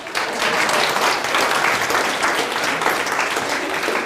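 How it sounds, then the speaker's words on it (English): An audience claps together in a sustained round of applause at a law of attraction talk, a dense, even patter of many hands filling the whole stretch with no voices over it. "Give yourself a round of applause."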